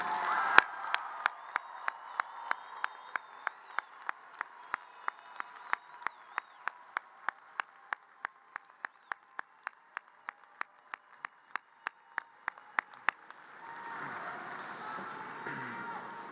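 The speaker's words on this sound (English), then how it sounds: "Let's give these 900 plus graduates one more big round of applause" At the NMU spring commencement, sharp claps ring out in a slow, even rhythm for graduates, then give way to a softer, broader crowd applause near the end.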